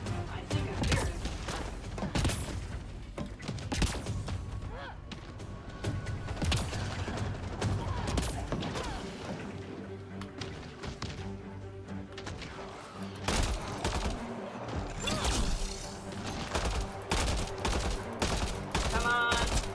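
Heavy gunfire from a big gun in the video game Mass Effect Andromeda, with rapid, dense bursts and booming impacts that run through a busy mix of game effects.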